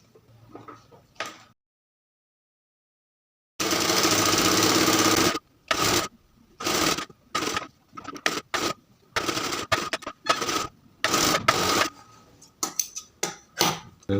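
A sewing machine stitches piping fabric onto a dress, running in loud bursts of rapid mechanical whirring separated by brief pauses, close up, after a short silence, with no talking.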